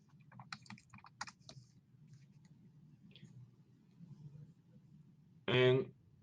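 Scattered keystrokes on a computer keyboard as a username and password are entered on a client portal login page, a few quick taps and a pause, faint against a low hum, before a voice speaks.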